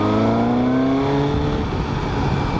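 A 2018 Suzuki GSX-S750 motorcycle accelerating, its airbox intake giving a throaty, rising engine note that climbs steadily in pitch, loud and close throughout with no talking.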